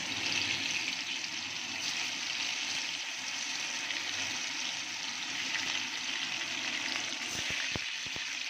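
Lentil muitha dumplings made from pea dal frying in hot oil, a steady, even hiss and crackle that fills the whole stretch with no talking, ending with a few soft knocks.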